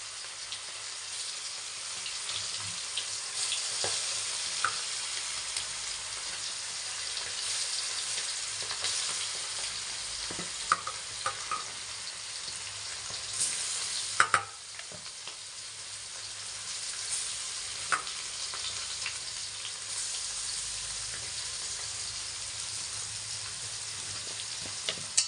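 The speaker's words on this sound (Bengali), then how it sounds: "আমি মাংসগুলো এবার এক এক করে দিয়ে আমি ভেজে নেব" Meat pieces fry in a pan with a steady, moderate sizzle, broken by occasional clinks and stirring sounds. Nobody speaks.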